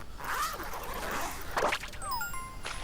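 Zipper sounds from the video game Super Mario Odyssey, quick rising zips in a couple of bursts followed by a small sparkling jingle, over faint game background.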